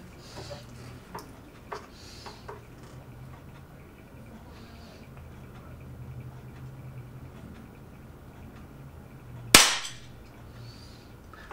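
A single sharp report from an Air Arms FTP 900 .177 PCP air rifle fired at plinking targets outdoors, standing out loud and brief over faint background ambience with no talk.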